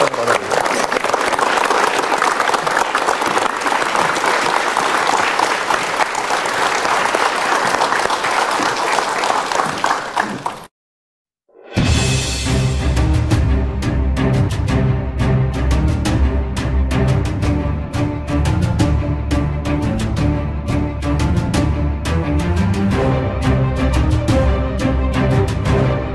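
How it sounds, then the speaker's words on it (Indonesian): Sustained, loud studio audience applause fills roughly ten seconds of dense clapping, then a brief silence before music takes over. "Mari Pak, kita berikan tepuk tangan."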